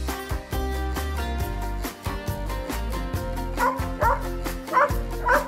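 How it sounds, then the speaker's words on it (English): Dog barks and yips in a children's alphabet piece, set over a loud cheerful music backing, with several quick barks rising toward the end. "D. D for dogs. Dogs."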